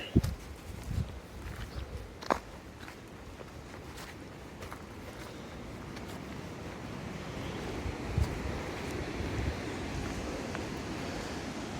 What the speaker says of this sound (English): A gust going probably about 20 miles an hour, maybe up to 30.